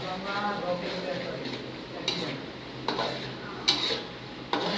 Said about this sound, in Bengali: এখন আমরা ছোট আলুগুলো দিয়ে কষিয়ে নিব ভালো করে